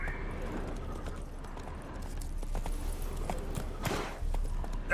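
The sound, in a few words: horse Roach walking hooves, from The Witcher 3 video game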